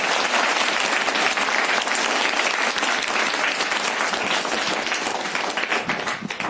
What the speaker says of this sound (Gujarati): તો એમને આપણે તાળીઓના ગડગડાટથી વધાવી